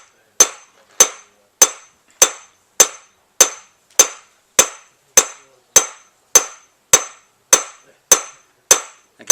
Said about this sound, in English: I'm setting up a nice steady rhythm with my hammer